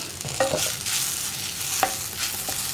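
Tomato masala for a chickpea curry being stirred in a hot pan: a spoon scrapes and clinks against the metal now and then over a soft, continuous sizzle of frying, close and alone.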